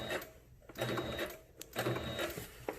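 A sewing machine stitches a patch onto fabric, with short bursts of quick mechanical clatter separated by brief pauses, faint and close.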